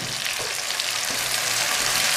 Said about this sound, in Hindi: टमाटर को हम फ्राई कर लेंगे ताकि ये नरम हो जाए।